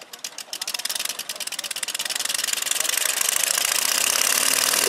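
The engine of a giant XXXL RC Blériot XI scale model airplane throttles up slowly, its rapid popping beats speeding into a rising, steady roar, close and loud.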